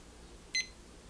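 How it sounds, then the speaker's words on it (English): A SousVide Supreme water oven timer sounds a single short electronic beep, bright and clear, over a quiet room hum. "Timer goes off"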